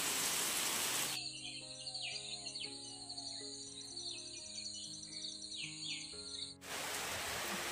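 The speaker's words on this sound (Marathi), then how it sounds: "तर आता संध्याकाळची वेळ आहे आणि आमच्याकडे दुपारपासून पाऊस चालू झालेला आहे" Evening rain falls over a home vegetable garden, a dense hiss at the start and end, with tonal bird or insect calls standing out in the quieter middle stretch.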